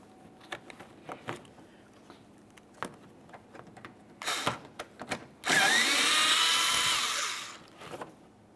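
A power tool spins off a bumper mounting bolt with an 8mm socket on a 2014-2018 Mazda 3, a loud sustained whir of about two seconds after scattered clicks and handling noises, close by.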